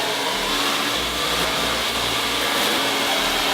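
A hair dryer blows steadily and loudly onto plastic window insulation film, a continuous whooshing whir with a low motor hum, no talking.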